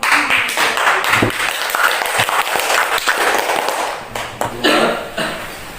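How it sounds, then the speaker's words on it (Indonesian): A classroom of students claps together, a brief burst of uneven applause with a cough and some chatter mixed in. "Tepuk tangan dulu."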